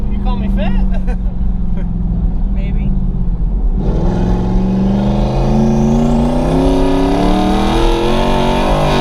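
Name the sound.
800hp turbocharged Ford Mustang engine revving while driving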